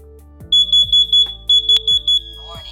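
A DMP 1168 wireless smoke/CO detector goes into alarm after carbon monoxide gas is sprayed into its chamber: loud, shrill electronic beeps in two rapid bursts of four, close and clear, with low clicks underneath.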